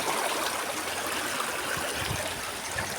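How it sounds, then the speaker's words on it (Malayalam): A stream flowing strongly through a fern-lined spot, a steady close rush and trickle of water that holds an even level throughout with no voices. "നല്ല ഒഴുക്കുണ്ട് വെള്ളത്തിന്."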